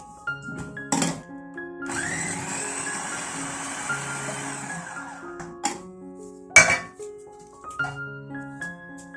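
A Kenwood FDP301 Multi-Pro Compact food processor chops onions and cabbage in one whirring burst of a few seconds, framed by sharp clicks and clunks of the machine and bowl.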